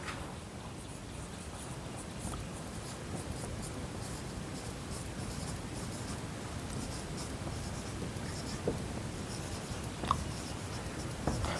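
A math problem is written out by hand, with steady scratchy pen or pencil strokes on paper. The sound is close, continuous and soft, with a few sharper taps near the end.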